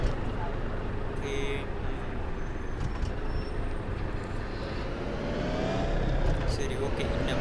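A bus in Bus Simulator 2023 drives along in neutral, its engine and road noise forming a steady, dense rumble throughout with a slight rise near the end.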